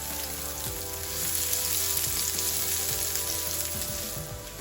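A small onion sizzling in butter and cooking oil in a pan, a close, steady crackling fry that swells slightly midway, with no talking.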